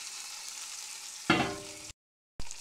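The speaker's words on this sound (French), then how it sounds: "Allez, on verse la sauce." Marinade sauce hits a hot frying pan with a sudden loud hiss that swells over an ongoing sizzle, then cuts out briefly before the sizzle returns.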